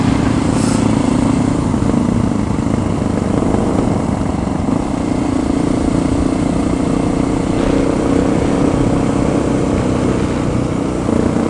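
A motorcycle engine drones loudly and continuously nearby during wheelie practice, a steady rough roar with little change in pitch throughout.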